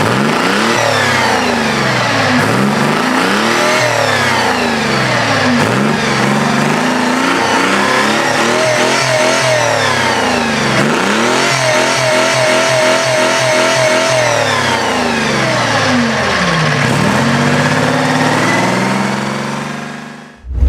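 A Rolls-Royce K60 opposed-piston diesel engine cranks and catches on a cold start, then runs loudly with rising and falling revs, a rough, harmonic roar that cuts off abruptly at the end.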